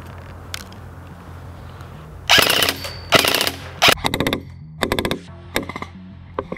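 Rapid bursts of sharp mechanical shots from an airsoft gun crack out close by, several short volleys with brief pauses between them over a faint background hum.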